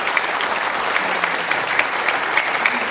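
Dense applause from a crowd at a Ramadan quiz show, steady and continuous, with no speech.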